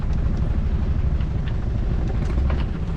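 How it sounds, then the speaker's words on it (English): Boat engines running steadily on a sailing trip in Scotland, a loud continuous low rumble that fills the whole stretch with no voices. "Engines has gone on now"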